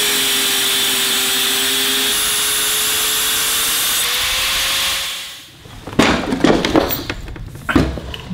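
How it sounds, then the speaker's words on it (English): A cutoff wheel cuts parts for a shifter kart, holding a steady, high, even whine for about five seconds. It then winds down and gives way to scraping, rubbing and clattering handling noises. "I'm going to use a cutoff wheel to cut these."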